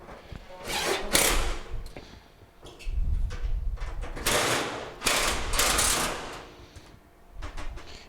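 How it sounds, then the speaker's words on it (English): Screws driven back into the front panel of a GE dryer, with whirring ratchet and driver bursts in several bouts and clicks and clatter of metal panels in between, close and fairly loud with no talk. "We're going to put in our 2 screws that go in the front that we took it out earlier."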